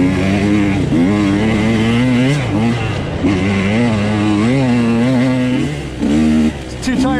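A Husqvarna TE 150 two-stroke dirt bike racing a hare scramble at Far Reach Ranch, the engine revving and falling in repeated wavering surges with brief throttle chops, close and loud, slipping the clutch rather than shifting.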